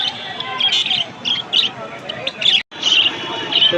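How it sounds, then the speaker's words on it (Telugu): Caged birds at the Erragadda Sunday market in Hyderabad give off repeated high chirps and tweets over a steady murmur of crowd chatter, with a brief dropout near the end. "స్వేచ్ఛగా తిరిగే పక్షులు కూడా బందికానాలో ఉన్నాయి."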